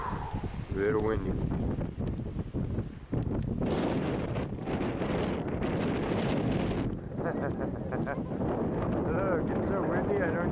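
Strong wind buffets the microphone with constant rumbling gusts on a shore while metal detecting, while voices talk over it.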